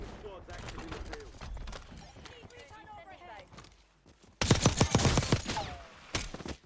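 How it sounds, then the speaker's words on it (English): Rapid nail gun fire in the video game Call of Duty Warzone, a quieter burst of shots early on, then a loud cluster of sharp repeated bangs near the end, with talk over the first half. "Nail gun action."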